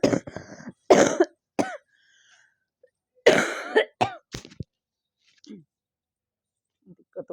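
Several harsh coughs and throat clearings come in short bursts from a nearby speaker with a sore throat, separated by silences, with a few faint murmurs and clicks in between.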